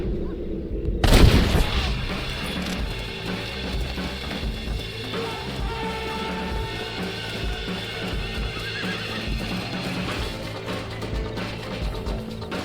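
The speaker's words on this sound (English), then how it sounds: "Jack, Gnarly, get on this horse. Get out of here." In the video game Red Dead Redemption, a horse whinnies near the start over a burst of noise, then hooves clop steadily beneath a busy, rumbling game soundscape with faint distant booms.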